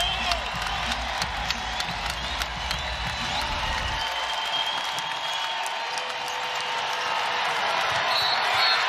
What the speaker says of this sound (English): Got the crowd on its feet,